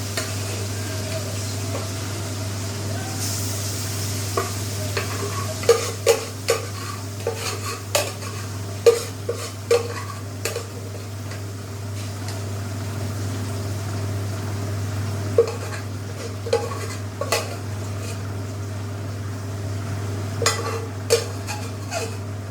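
Chicken pieces stir-fried in a pan for chicken kosa with gravy, a steady low sizzle running throughout with repeated scraping clatters of a spatula against the pan, close and fairly loud, no voices.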